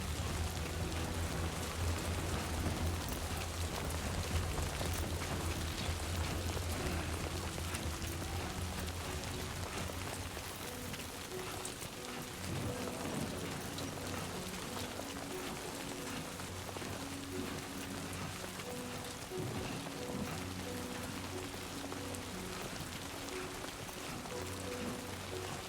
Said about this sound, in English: Little rain effect on the screen.